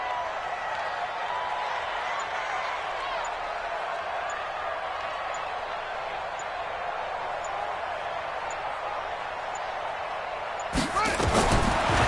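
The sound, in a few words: stadium crowd cheering in a video game American football match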